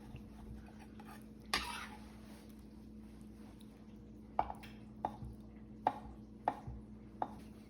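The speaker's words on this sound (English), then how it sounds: "So now I'm going to just give these a rough chop." A knife roughly chopping hard-boiled eggs on a board: one sharp thunk, then five more quiet, close taps at uneven intervals against a faint, steady background hum.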